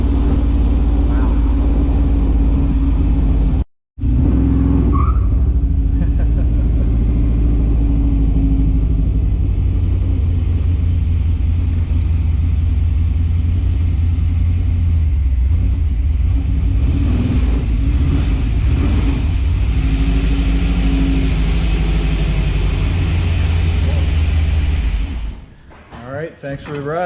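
Ride in a 1962 Corvette with a 400 small block V8 and Holley EFI, a steady loud engine rumble and road roar with a brief cutout early and a fade at the end.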